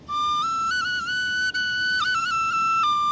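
A tin whistle plays an old Irish tune in its high octave, a clear, loud, pure-toned melody of sustained notes with brief slides and changes in pitch, played solo with no talking.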